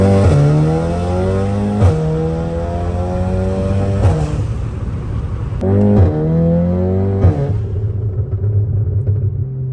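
A Volkswagen Golf R accelerating hard, its engine note climbing steadily through several gear changes, loud and close, with no voices.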